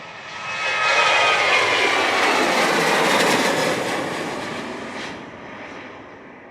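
An airliner passes close at Montego Bay airport, Jamaica, its jet engine roar swelling within a second, holding loud and broad for several seconds, then fading slightly as it moves on; no talk.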